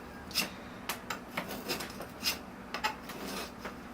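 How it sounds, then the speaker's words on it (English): A guava bonsai tree is worked loose from its pot, producing faint, irregular scraping, rubbing and soft knocks of a tool against soil and the pot, close by and quiet, with no voices. "I'm just loosening it up, hoping it comes out of the pot."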